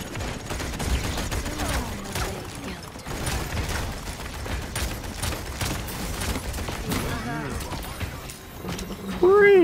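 Rapid sustained gunfire from the Ruckus mech in the Paladins video game, a dense mechanical rattle running continuously with game effects and a person talking over it.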